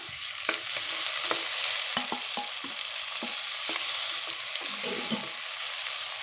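Tomato sautéing in a pan for Kongu-style dal rice, with a steady sizzle broken by repeated spatula scrapes and stirring knocks at an uneven rhythm, close and moderately loud, with no voices.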